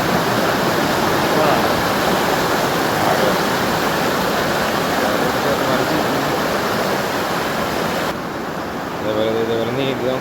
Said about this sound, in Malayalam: വെള്ളത്തിൻ്റെ ഒഴുക്കാണ്